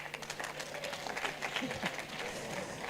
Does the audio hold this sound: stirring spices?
no